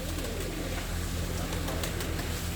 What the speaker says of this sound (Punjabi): ਇੱਥੋਂ ਦੇਖੋ ਲਾਈਨ 'ਚ ਲੱਗੀਆਂ ਸਾਰੀਆਂ ਕਬੂਤਰੀਆਂ